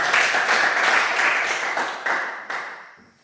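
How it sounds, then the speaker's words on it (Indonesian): Classroom applause from a small group, a burst of clapping that thins out and fades over a few seconds, with a couple of louder claps near the end. "Tepuk tangan untuk kita."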